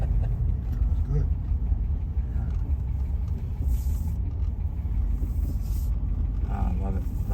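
A 1967 Lincoln on its first road drive in a long time: a deep, constant engine and road rumble from inside the car, with people talking over it.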